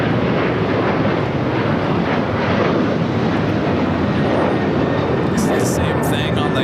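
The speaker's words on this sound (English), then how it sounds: "Korean Air Flight 18 lining up. We'll be taking off there on the north side." A Korean Air jet takes off on the north side at LAX, a loud continuous broadband engine roar that stays constant throughout, with faint voices briefly audible beneath it.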